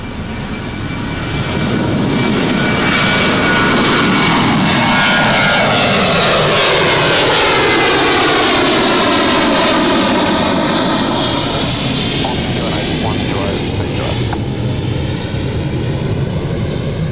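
Loud aircraft passing close at Gold Coast Airport, engine roar swelling in with sweeping tonal whines that shift in pitch as it goes by, then holding steady for the rest of the stretch, no talking.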